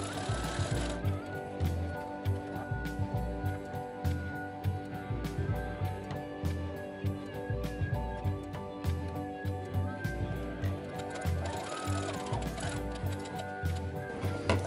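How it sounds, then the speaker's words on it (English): Sewing machine zigzag stitching seams on a Tusken Raider costume bandolier, a steady rhythmic ticking clatter of the needle running continuously up close, with a faint hum underneath. "We're gonna do a zigzag stitch all the way across, and then just a finished seam on the end."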